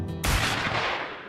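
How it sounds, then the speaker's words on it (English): A single sharp gunshot in a video game, a loud crack followed by a short rumbling tail that fades out, with no talk. "Was that a gunshot?"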